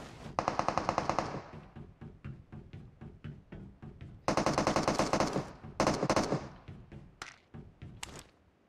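Rapid automatic gunfire in a video game, heard as several loud, tightly spaced bursts separated by single shots at a steady rhythm, close and clear with no talk over it.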